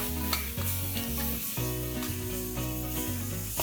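Ginger, garlic and green chilli paste sautéing in a pan, a close, steady sizzle with stirring, while a repeating musical pattern plays loudly underneath throughout.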